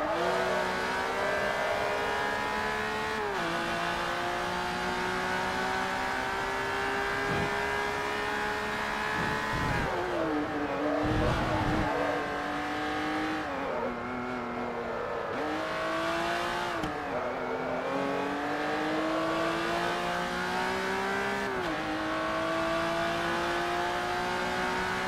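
Race cars in an R3 class championship race in Forza Motorsport 3 drone with a steady, high-revving engine note, the pitch climbing and dropping through gear shifts and braking, loud and sustained for the whole stretch.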